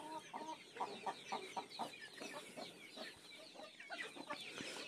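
Hens cluck in a rapid, continuous series on a farm in Peruvedai, with soft overlapping calls from several chickens close by.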